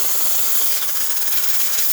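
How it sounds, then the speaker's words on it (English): Steady, loud hiss of steam blasting from the wand of a Nuova Simonelli espresso machine, continuous and close with no pauses. "Excellent steam pressure coming out of this machine."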